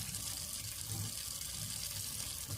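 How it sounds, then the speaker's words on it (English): Cool tap water runs steadily over instruments being rinsed at a sink in a decontamination area, a constant close splashing hiss throughout. "Good rinse, and this is cool water, not hot water."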